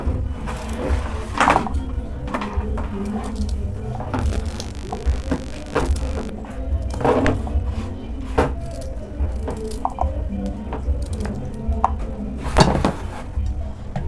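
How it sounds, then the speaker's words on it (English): A knife cutting peeled beetroot into small cubes for a beetroot and banana smoothie: close, repeated blade knocks on a board in an uneven rhythm, with clattering of utensils and no talk. "I just prefer cutting it into small cubes"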